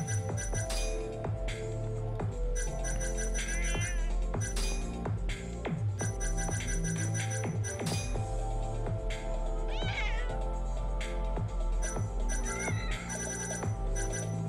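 Many cats meow repeatedly in the video game Judgment, their cries mixed into a busy game soundtrack with music and chiming effects that play loudly throughout.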